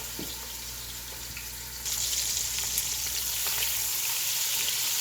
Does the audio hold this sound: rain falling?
no